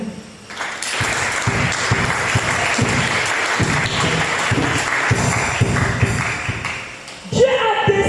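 Church congregation clapping and cheering during a sermon, loud sustained applause filling the room for about seven seconds before dying down, with some voices mixed in.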